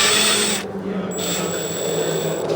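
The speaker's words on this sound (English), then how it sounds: "I've got some self-tappers that are just the right size to blow through the rivets, so I'll replace those" Power driver sinking self-tapping screws through rivets on a Mitsubishi Evo 5, a close grinding whir that drops briefly and then picks up again under a thin high whine, with no voices.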